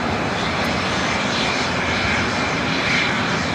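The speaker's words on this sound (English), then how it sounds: "we do have an Antonov AN-124 to be taken off" Antonov AN-124 cargo jet engines at LAX, a steady, loud, broadband roar that holds without a break, with no voices.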